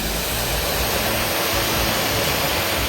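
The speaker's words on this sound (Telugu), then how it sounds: "వాటర్ లీకేజ్ అండి" Water leaking through the gates of Mylavaram Dam in Andhra Pradesh makes a steady, loud, unbroken rush that fills the whole stretch without a pause.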